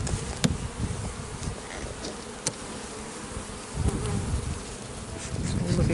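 Honeybees buzz steadily in an opened, very full hive, a dense close drone with individual bees zipping past now and then, loud and continuous without talk.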